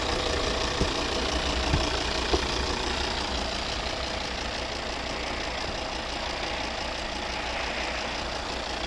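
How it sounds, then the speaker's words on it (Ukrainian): A 2010 Volvo XC60 AWD 2.4 D5 diesel with an automatic gearbox, idling steadily with a constant low rumble and faint mechanical ticking, heard without talk. "класно працює тут двигун"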